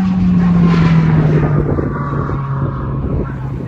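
A time attack race car runs its cooldown lap at a track event, a loud steady engine drone with a falling pitch as it passes close and eases away.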